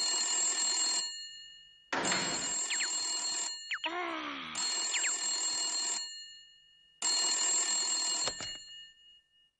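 A telephone rings in repeated bursts, a bright electronic ring broken by short pauses, loud and close with no talk over it, with a few brief clatters between the rings.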